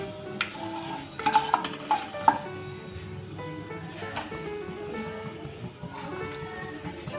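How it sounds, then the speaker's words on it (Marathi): A cinnamon stick and two bay leaves dropped into hot oil for a Maharashtrian masala, a light sizzle with clinking and scraping of a utensil against the pan and a few sharp knocks. "तर आपण इथे तेल गरम करत ठेवलेलं आहे आता आपण हे टाकणार आहोत एक दालचिनी तुकडा आणि दोन तेजपत्ताची पानं"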